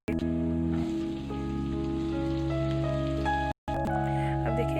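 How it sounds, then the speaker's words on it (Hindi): Cumin, spices and peanuts frying in hot oil for Odia-style potato samosa filling, a continuous crackling sizzle with a brief cut near the end. "अब उसको हम लोग अच्छे से फ्राई करेंगे।"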